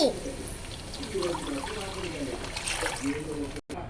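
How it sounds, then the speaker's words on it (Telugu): Water poured into a cooking pot of onions, chillies, garam masala and carrots while making bagara rice: a steady trickling flow runs for about three and a half seconds and then cuts off abruptly. "ఇప్పుడు నీళ్లు పోయాలి"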